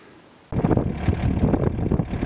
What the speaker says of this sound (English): It's kind of windy here today